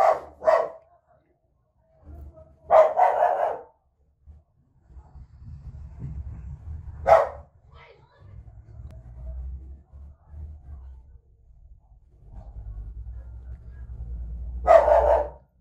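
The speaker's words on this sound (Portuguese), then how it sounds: "o cachorro aí que tá latindo" A household dog barks in short bursts of a few sharp woofs each, separated by pauses, fairly close, over low background rumble and faint household noise.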